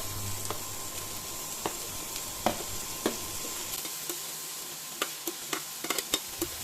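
Vegetables with tomato stirred and sautéed in ghee for a ragi soup: soft, low sizzle under a run of light spoon clicks and scrapes against the pan, quiet and close, with no voices.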